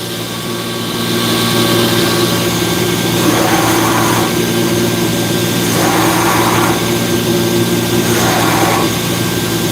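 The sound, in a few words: grinder grinding steel Buckthorn knife blade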